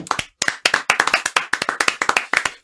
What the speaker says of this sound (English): Can I just pause that there for a round of applause for Heather?